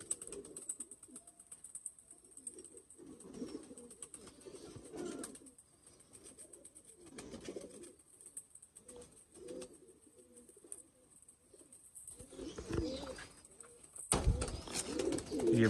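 Pigeons at a breeder's loft give soft, low repeated coos at a moderate distance, with irregular pauses between calls, a faint hiss behind them and a few louder rustles and knocks near the end.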